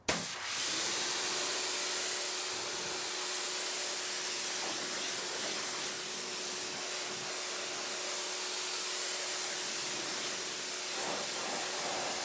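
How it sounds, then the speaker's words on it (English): Continuous close hissing spray of tire and wheel cleaner being applied to a tire and rim outdoors, a steady broadband rush running unbroken for several seconds with a faint tonal hum beneath. "I'm going to go ahead and wet the tire and rim down first. Then I'll spray it on"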